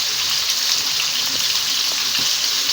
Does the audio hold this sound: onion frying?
yes